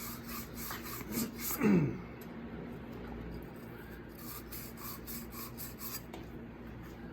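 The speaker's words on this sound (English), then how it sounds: "And I use a sand cloth. It's like a screen." Sand cloth rubs copper pipe clean ahead of soldering, making a close, gritty scraping rasp in short repeated strokes, loudest in one burst early on, then fainter rubbing continues.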